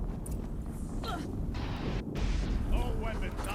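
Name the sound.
explosion in video game Horizon Zero Dawn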